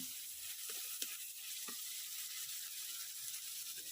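Chopped onion sautéing in a pan for a soya chunk roast, a steady close sizzle and hiss throughout with a few soft stirring scrapes, no talk.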